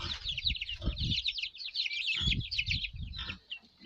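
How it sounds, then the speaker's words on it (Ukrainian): Rapid chattering bird calls fill the clip, with low thumping and scuffling bursts underneath, like roosters squabbling nearby. "О, півні, півні бійцівські."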